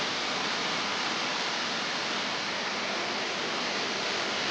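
Steady, dense rush of the Malimunda waterfall in Koraput, Odisha, a continuous broadband roar heard up close and alone, with no voices over it.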